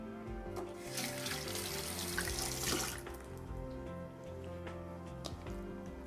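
Water runs steadily from a tap as hands are wetted while making Turkish-style dishes, a close, moderate rushing over background music, swelling briefly in the middle of the clip.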